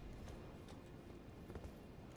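Horse hooves beat in a steady, soft clip-clop rhythm while riding in Elden Ring, muffled under constant game ambience.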